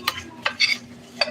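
Chopped apple being stirred in a bowl with a utensil, a few quick clinking scrapes and soft wet stirs, close and distinct, with no talking over them.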